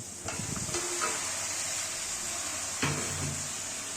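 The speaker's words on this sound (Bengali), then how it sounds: "পেঁয়াজ মরিচগুলো কিছুটা সিদ্ধ হয়ে গেলে এবার এতে মিক্সড ভেজিটেবলসগুলো ঢেলে নিচ্ছি" Mixed vegetables go into a pan of frying onions and chillies: a bright continuous sizzle and hiss, with soft stirring scrapes and knocks at the start and again near the end.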